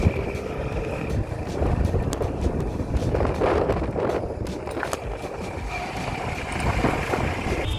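Steady wind roar and buffeting fill the air while riding a motorbike, a continuous rough rush that swells and dips with no voices.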